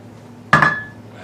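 A single sharp metallic clink of a utensil against a pot or bowl while roasted ratatouille vegetables are mixed, ringing briefly and close by.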